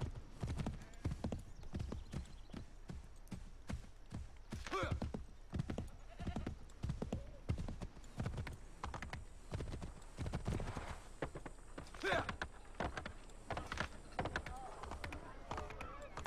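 Rhythmic clip-clop of a horse's galloping hooves in Assassin's Creed gameplay, close and steady throughout, with occasional horse whinnies and a voice talking over the action.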